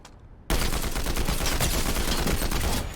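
After a brief quiet moment, a Combat AR rifle in a video game opens up in a loud, rapid automatic burst lasting over two seconds, then cuts off abruptly.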